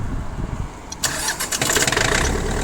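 A Mitsubishi MT21D four-wheel-drive mini tractor engine cranks briefly while cold, then catches and starts, settling into a rough, rapid chugging close by.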